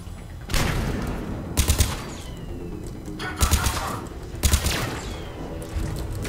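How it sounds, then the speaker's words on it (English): Gunfire in Mass Effect 3 on Eden Prime, with several loud bursts of automatic fire from a turret arriving in spaced clusters over a steady background rumble of battle. "Who's shooting me?"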